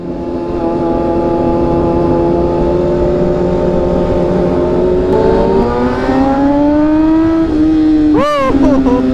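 A sports bike motorcycle's engine drones steadily and close while riding, its pitch climbing slowly, then a brief sharp rev surges near the end.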